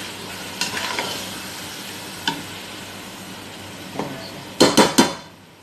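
Meat with blended tomato is stirred in a pan, with a faint simmer and a few sharp utensil clinks against the pan, ending in a quick cluster of louder scrapes.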